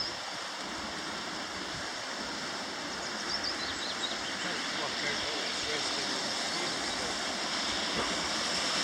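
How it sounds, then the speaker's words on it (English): Running water from a stream far below in a steep gorge, a steady rushing wash with a little wind, and a voice talking over it. "And there's the stream, the running water down there."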